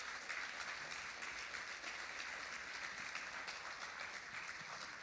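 An audience applauds at a Seattle remembrance event for gun violence victims, a steady wash of clapping that holds at an even, moderate level throughout without any talk.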